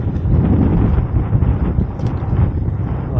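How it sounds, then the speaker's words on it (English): Strong winter wind roars steadily outdoors on a cold day, buffeting the microphone with a loud, continuous rumble and no clear breaks throughout. "that wind has really strengthened"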